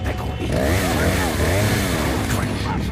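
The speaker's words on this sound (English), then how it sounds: "Chainsaw." A chainsaw in Resident Evil 4 revs with a buzzing, warbling engine note that rises and falls, with a voice speaking over the top of it.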